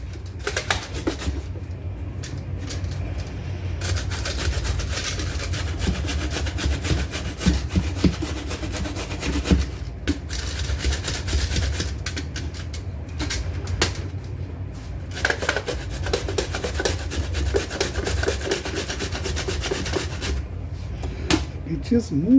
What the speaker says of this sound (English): Just clean this up and grate this. Use a big old grater.